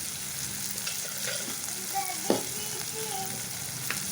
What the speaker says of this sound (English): And let this fry a bit.